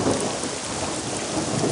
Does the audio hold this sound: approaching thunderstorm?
yes